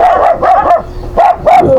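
A dog barks in a quick run of sharp, close yips and woofs, several short bursts with brief pauses between.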